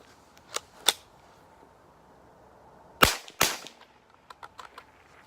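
A Marlin 89C semi-automatic rifle fires during a function test, with sharp isolated shots spaced a few seconds apart, two early and two close together midway, followed by fainter mechanical clicks.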